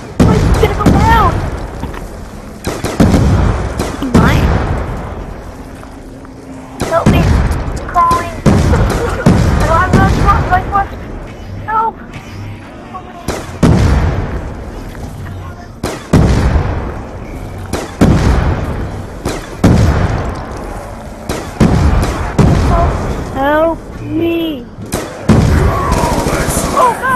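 Bombs and gunfire in a Black Ops 2 Zombies Grief match on Cell Block: repeated loud booming blasts and bursts of shots recur throughout, mixed with game sounds and excited talking.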